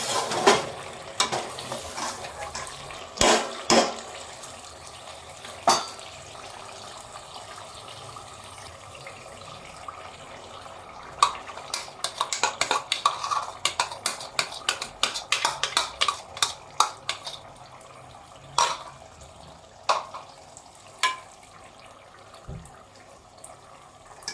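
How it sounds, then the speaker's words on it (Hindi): Eggs and potatoes in a cooking pot are stirred in an aloo anday salan, making a soft sizzle under scattered clinks and scrapes of a utensil against the pot. The scrapes grow denser and quicker in the middle stretch. "अब हम मिक्स करने लगे हैं अंडे और आलू।"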